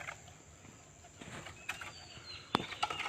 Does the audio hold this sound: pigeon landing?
yes